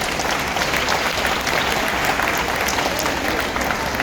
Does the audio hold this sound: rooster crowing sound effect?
no